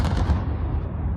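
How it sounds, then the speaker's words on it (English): An explosion booms amid news footage of Black Hawk helicopters flying low over downtown Los Angeles at night, a short continuous rumbling blast with no speech over it. "You can even hear an explosion."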